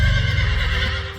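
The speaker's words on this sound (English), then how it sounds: "The new footage from Season 2 is introduced with a horse neigh." A horse gives a loud, close whinny in the Percy Jackson Season 2 teaser trailer, one rising and falling neigh heard on its own with no voices.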